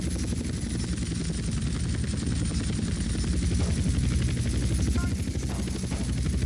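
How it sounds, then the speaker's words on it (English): A helicopter in GTA San Andreas drones loud and constant with a rapid rotor chop throughout, dense and unbroken, with no speech over it. "Wrong way, helicopter."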